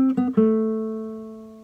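A short cumbia guitar fragment: a few plucked notes in quick succession, the last one ringing out and slowly fading, played alone and close.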